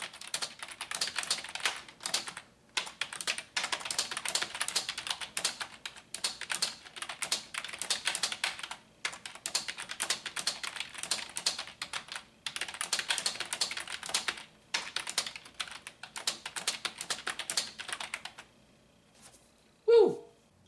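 Rapid typing on a Corsair K70 MK2 mechanical keyboard during a typing race, dense bursts of clicking keystrokes with brief pauses between phrases, close and alone, ending with a short unrelated sound.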